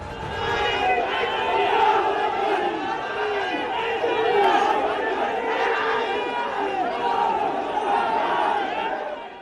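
A large crowd marching in Jammu shouts slogans together, rhythmic massed voices rising and falling in loud waves over a continuous background of chatter.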